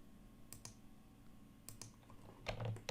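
Keyboard typing during a SketchUp 3D modeling session, with a few scattered key clicks followed by a quicker cluster of taps, close and fairly quiet with no talk.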